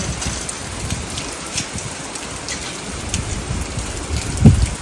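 Steady rain falls and patters on surfaces outdoors, a continuous broadband wash with no voices, ending in a brief louder splash or knock near the end.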